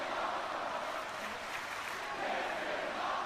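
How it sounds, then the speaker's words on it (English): A virtual arena crowd in the WWE 2K20 wrestling game roars and chants in a steady, dense wash of noise after a moonsault through a table, heard throughout at even volume. "The crowd chanting,"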